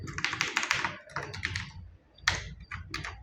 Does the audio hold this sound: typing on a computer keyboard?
yes